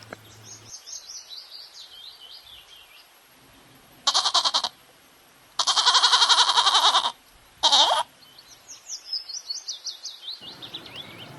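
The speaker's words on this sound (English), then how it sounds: "G for goat." A goat bleats in three loud, wavering bursts mid-clip, set apart from quieter chirping and tonal sounds before and after.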